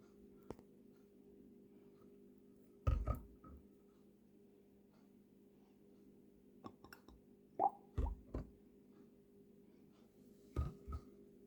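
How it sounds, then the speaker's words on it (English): Ice cubes dropped into a glass of homemade iced coffee: several dull, close plops and clunks at irregular intervals over a low steady hum. "I'm gonna put some ice in it"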